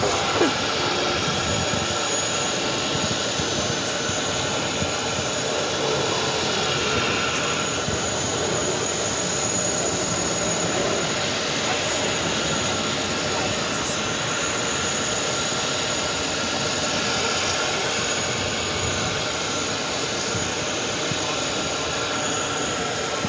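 Heavy Delta jets at JFK airport make a continuous loud engine roar that holds steady and close for over twenty seconds, with no break.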